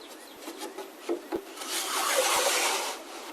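A wooden divider for a bombe secretary slides in through the back into a stopped dado, starting with a few light taps and knocks, then a longer, smooth rubbing scrape of wood on wood, close and fairly quiet.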